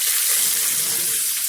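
A steak sears in a hot frying pan, giving a loud, dense, continuous sizzle with bubbling hiss and no pauses across the short stretch.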